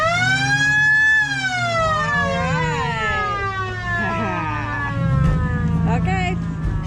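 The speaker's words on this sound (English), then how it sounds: "you want to blow the siren" A police squad car siren wails close and loud, a sweeping rising-and-falling tone that continues over an engine rumble, with people talking underneath.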